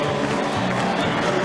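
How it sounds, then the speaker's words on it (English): Australian football crowd applauding and cheering from the stands in bad weather at an Adelaide Crows versus Port Adelaide AFL showdown, a dense, continuous roar of clapping filling the air. "Fans who have sat through this horrible weather throughout the night stand and applaud their team"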